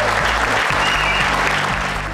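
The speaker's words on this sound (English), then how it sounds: "we'll give him a round of applause too" Audience applause at an international airgun shooting competition awards, steady dense clapping throughout with a low hum underneath.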